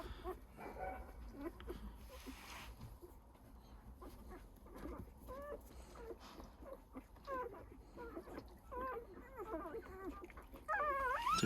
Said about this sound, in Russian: Тут есть, которые уже рычат, тявкают.